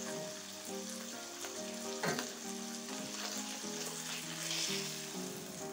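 A tilapia fillet searing quickly in a hot pan, a soft continuous sizzle with a few clinks and scrapes, heard beneath a steady tonal background.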